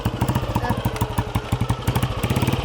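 A Royal Enfield motorcycle engine thumps in a steady, loud, close rhythm of regular beats while the gears are shifted into neutral, with no talking.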